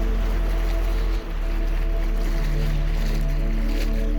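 Ocean waves wash onto a beach during a family outing, a steady broadband surf roar with a low rumble running throughout, loud and close, with no talk.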